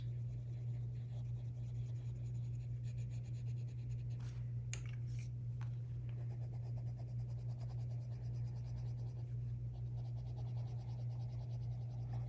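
Colored pencil scratching across paper while coloring a garden illustration, a steady soft scraping texture over a constant low electrical hum, with a few brief sharper strokes in the middle, no talking.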